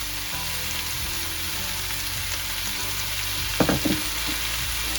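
Spices being stirred into pumpkin curry frying in a pan give a loud, steady sizzle with a brief burst of scraping stir sounds near the end.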